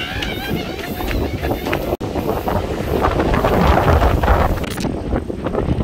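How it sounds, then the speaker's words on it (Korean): Strong wind buffets the microphone at a quiet rainy seaside, roaring in loud, gusty bursts with a sharp dropout partway through and the rush building toward the end. "지금 바람이 많이 부는데"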